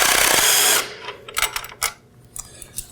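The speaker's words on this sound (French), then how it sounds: "enlever le ski de notre motoneige avec une perceuse et une clé" A power drill whirs loudly for under a second while removing the ski from a snowmobile, then stops, followed by scattered metallic clicks and clunks of handling parts and tools.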